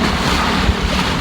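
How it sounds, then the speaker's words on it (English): Choppy sea waves wash steadily around a sailboat while strong wind roars across the microphone, loud and constant throughout. "The waves are here, and they're choppy and big at times."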